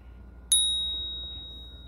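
One bright notification bell ding strikes once and rings out with a long, clean fading tone over a quiet hum.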